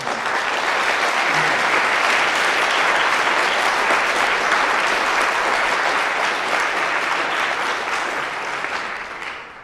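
A crowd claps steadily and loudly for nearly ten seconds, a dense wash of applause that tapers slightly at the end.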